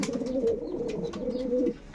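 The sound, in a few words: pigeons cooing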